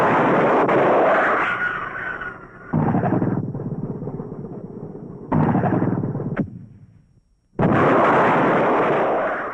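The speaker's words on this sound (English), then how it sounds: "The missiles are first subjected to tactical field conditions, then fired at stationary targets." TOW anti-tank missiles fired at stationary targets during field testing: loud roaring blasts and rushing motor noise come in several long bursts, cutting off abruptly between them, heard close and alone.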